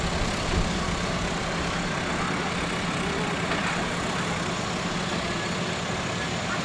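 A Volkswagen Passat with a Cosworth engine idling at a GTI festival at Santa Pod Raceway, a steady low engine rumble with broad outdoor noise throughout, no talk.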